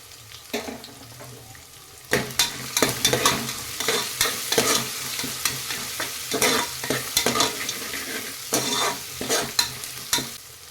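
Ginger and a handful of cashews sizzle in a pan for ghee rice, with a spoon scraping and stirring in irregular bursts over a constant close frying hiss.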